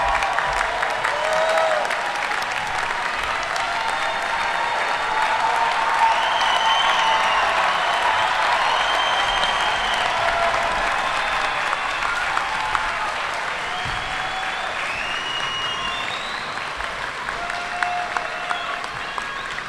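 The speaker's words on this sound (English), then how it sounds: "Let's have another round of applause for the class of 2024." Sustained applause from a large audience at a medical school commencement for the graduating class of 2024, dense steady clapping throughout with scattered whoops and cheers rising above it.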